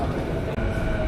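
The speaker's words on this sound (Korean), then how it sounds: "지하철 도착" A subway train pulling into a station in India, a loud, steady metallic rumble filling the platform with a faint whine riding on top.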